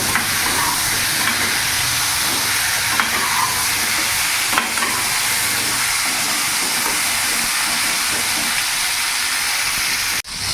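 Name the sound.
stir-frying pointed gourd (potol) in a pan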